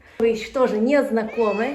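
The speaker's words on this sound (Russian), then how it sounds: "это моя кошка, она сфинкс" A Sphynx cat meows several times in a row, close and clear, with short rising and falling calls that overlap someone speaking at home.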